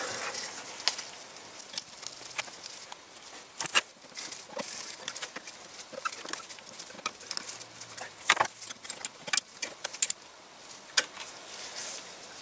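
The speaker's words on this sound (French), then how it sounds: "je vais remonter toutes les vis du couvercle" Cover screws being refitted on the carburetor of a 1955 Panhard Dyna Z1 engine, scattered small metallic ticks, taps and clicks at close range, irregular and light throughout with no voices.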